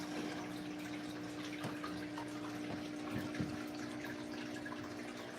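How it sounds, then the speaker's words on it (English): A bucket pump moves water out of a backyard pond with a steady watery churn and a low constant pump hum, splashes and drips rising now and then, no voices over it. "I got the bucket pump."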